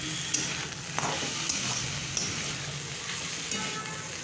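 Fenugreek greens are stirred in a pan with fried garlic and onion, giving a steady gentle sizzle marked by regular light utensil clicks and scrapes, with no voices.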